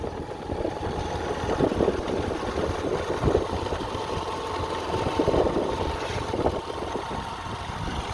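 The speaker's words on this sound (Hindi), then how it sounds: "टॉप गियर में चल रही बाइक" A motorbike cruises in top gear without revving through a rural industrial area beside fields, its engine a steady, mid-pitched drone with slight rhythmic wavering, fairly close and uninterrupted by voices.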